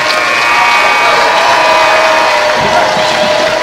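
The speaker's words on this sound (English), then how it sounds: "The celebration has started" Loud, dense crowd roar as the Walkersville Lions win at the final buzzer, steady cheering and shouting filling the gym without letup.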